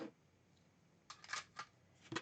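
Scissors snip through paper while pages for a collage are being bound, heard as a few quiet, close, crisp cuts in bursts near the end, with no speech.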